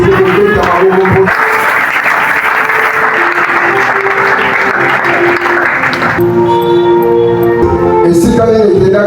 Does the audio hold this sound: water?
no